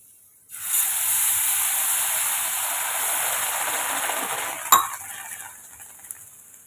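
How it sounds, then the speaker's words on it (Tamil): Dosa batter poured onto a hot pan, bursting into a sudden loud, steady sizzle that slowly fades, with a metallic clink of a utensil partway through. "இப்போ நம்ம தோசை ஊற்றி எடுத்துக்கலாம்"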